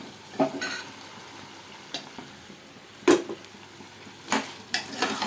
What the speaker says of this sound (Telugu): తిప్పండి ఒకసారి, తిప్పి కొంచెం ఉప్పు వేసి మళ్ళీ మూత పెట్టండి